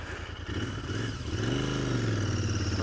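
A Royal Enfield Interceptor 650 parallel-twin motorcycle engine hums close by, then its pitch climbs smoothly as the throttle opens and the engine revs up steadily.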